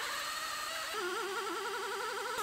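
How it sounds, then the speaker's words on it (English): A high-pitched power drill whines steadily, drilling out spot welds on a GMC Yukon's C-pillar, its pitch wavering as it bites into metal, loud and close with no talking. "Drill out all of our spot welds."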